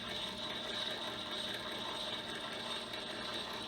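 A tinkered belt-driven machine runs steadily with its mandrel spinning and feed screw turning, giving a continuous close mechanical whir with a faint ratcheting texture throughout.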